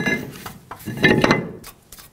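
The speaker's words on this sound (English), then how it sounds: "install the rotor." A brake rotor is fitted onto the front wheel hub of a 2007-2017 Ford Expedition, giving a few metallic clanks and scrapes of steel against the hub, close by and fairly loud, with quieter handling noises between them.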